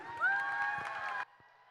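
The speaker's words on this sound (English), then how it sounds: "Swimmers, a big round of applause, please." A crowd cheers and whoops for swimmers at a swimming championship, high sustained shouts in a large echoing space that cut off abruptly.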